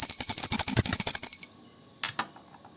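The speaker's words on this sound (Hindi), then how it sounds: "घंटी बजा कर करेंगे आरती।" A small hand bell rung at a Hindu home puja before aarti, rapid bright ringing for about a second and a half that stops, then two short separate clangs.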